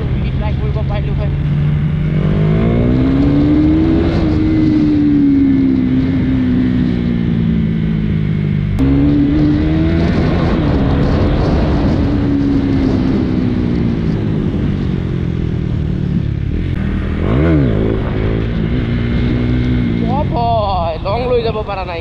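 KTM Duke 390 motorcycle engine droning steadily throughout while riding, pitch rising and falling with throttle changes and a brief rev near the end, with someone talking over it.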